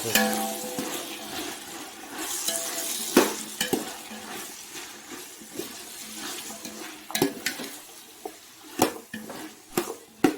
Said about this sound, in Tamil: இஞ்சி பூண்டு பேஸ்ட் சேர்த்து நல்லா வதக்கி